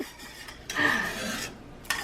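Salt shaker spun over sweet chili sauce, a short gritty rasping twist lasting under a second, close and clear, with a faint click at the end.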